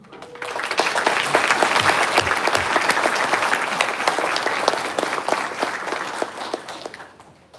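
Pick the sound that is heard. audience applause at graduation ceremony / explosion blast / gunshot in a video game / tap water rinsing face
audience applause at graduation ceremony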